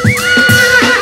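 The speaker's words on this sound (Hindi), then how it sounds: "वो आ गया घोड़े पे अपना छोटू।" A horse neighs loudly and close by, a single shrill whinny with a wavering, rising and falling pitch lasting about a second.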